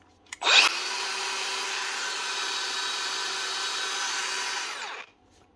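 Makita DGA463 angle grinder spinning up with a brief popping burst at the start as grease works around, then a steady loud high whine held for about four seconds before cutting off.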